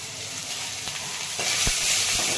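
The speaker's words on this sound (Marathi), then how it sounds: "आणि थोडंसं परतून घेत आहे." Chopped onion, spring onion and cabbage sautéing in a pan for dry Manchurian, with a loud continuous sizzle that swells toward the end and has a few stirring knocks, close and alone.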